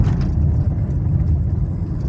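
A car accelerating gently during a driving lesson, a steady low engine rumble holding at moderate loudness for about two seconds with no voices over it.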